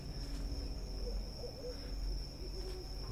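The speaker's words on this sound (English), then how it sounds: "I hear owls and shit." Owls hoot in the dark woods of the horror video game Left Behind, a few soft, rising calls over a steady hum and a constant high-pitched whine, with no talking.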